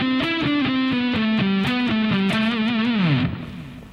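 Distorted electric guitar picks a slow run, distinct single notes stepping along one string, ending in a downward slide and a decaying note.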